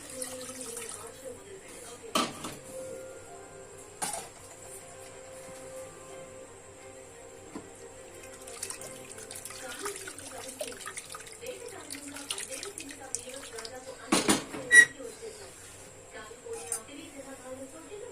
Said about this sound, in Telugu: పులుపు చాలా ఉందండి. వాటర్ పోసుకుందాం.